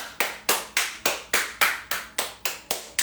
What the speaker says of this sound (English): We're gonna clap our hands.